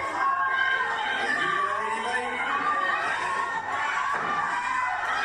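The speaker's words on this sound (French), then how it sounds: "La foule est à fond dans ce qu'on fait" An arena crowd in a wrestling video game roars and cheers steadily throughout, with a voice talking over the noise.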